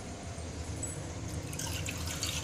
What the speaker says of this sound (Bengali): আর এর সাথে সামান্য একটু জল দেব